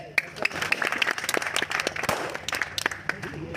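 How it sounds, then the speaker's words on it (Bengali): Scattered clapping from a small gathering of the Nirjatito Motor Shromik Ekota union in Kumarkhali, Kushtia, with sharp irregular claps over a busy background of murmuring voices. "হাততালি।"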